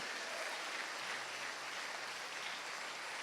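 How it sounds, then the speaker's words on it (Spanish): A church congregation claps steadily throughout, a dense, continuous wash of applause at moderate distance with no break. "Dale un aplauso al Señor."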